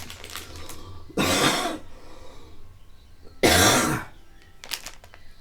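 Two loud, harsh coughs a couple of seconds apart, close to the mic, with quieter breathing and faint throat sounds between them.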